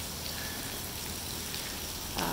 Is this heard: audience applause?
no